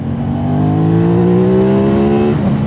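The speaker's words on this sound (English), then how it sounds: "lots of airbox noise" An Aprilia RS 660 motorcycle engine revs steadily under a rider, with a strong airbox intake drone rising slightly in pitch, loud and close, then easing off near the end.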